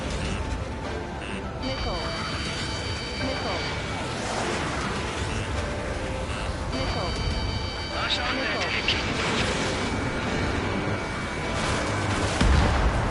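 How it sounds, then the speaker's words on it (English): A missile launches during an aircraft dogfight in the combat flight game Ace Combat 7, with a roaring jet drone and booming blasts under continuous game radio chatter and electronic warning tones. "Strutter 1, missile launched."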